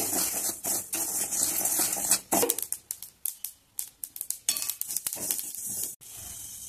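Sesame seeds roast dry in a thick-bottomed wok, giving a steady crackling sizzle for about two seconds, then sharp scraping stirs and scattered light patters in a quick, uneven rhythm, close and fairly loud, with no voices.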